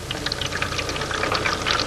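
Tap water running from an opened faucet into a container, a steady close splashing pour that carries evenly through the whole stretch with no talk.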